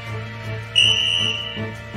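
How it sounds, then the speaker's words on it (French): A referee's whistle blows one sustained shrill blast of under a second at a hockey face-off, over a steady low hum. "Au coup de sifflet"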